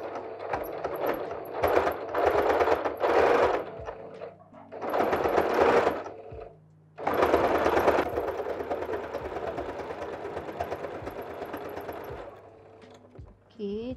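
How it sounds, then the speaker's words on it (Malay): A sewing machine stitches a batik face mask in several bursts of rapid, rattling whirring, separated by short pauses and then one long steady run near the microphone. "Kita jahit lurus. Okey, teruskan jahitan"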